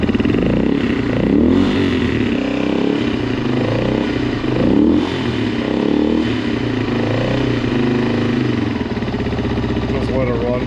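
A 2019 Beta 125 RR-S dirt bike with a 150cc Yamaha big bore kit runs close by, a loud rattling two-stroke idle with a few throttle blips rising and falling, while someone speaks briefly over it.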